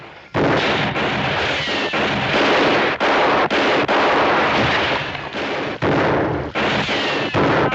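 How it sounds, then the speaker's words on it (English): Heavy gunfire from a Western gunfight ambush, loud sustained volleys of rifle and pistol shots cracking one over another for several seconds with no talk. "What the heck are you doing? It's Thirsty getting shot at."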